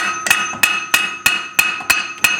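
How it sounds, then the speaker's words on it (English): Seven sharp metallic hammer taps on a stuck cone washer of a Subaru GL axle ring out at a steady, brisk rhythm, close and loud, each leaving a brief bright ring. "a couple quick taps with the hammer, we'll usually free it up"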